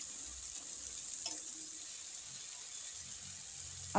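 A soft, steady sizzle of tomato, ginger, garlic and onion frying together in a pan, faint and continuous, with a brief clink of a utensil near the start.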